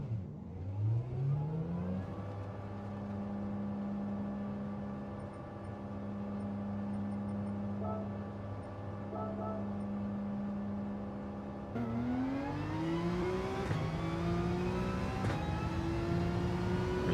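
Race car engine in Gran Turismo revving during warm-up: a smooth synthetic engine tone climbs, holds a steady drone for about ten seconds, then steps up and rises again, clean and continuous with no talking.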